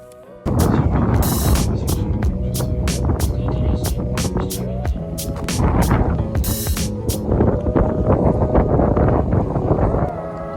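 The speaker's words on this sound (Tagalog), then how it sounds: "sobrang lakas ng hangin" Strong gusts at Cape Forchu, Yarmouth, Nova Scotia batter the microphone in loud, rumbling bursts, with a voice partly heard beneath the steady roar of the wind.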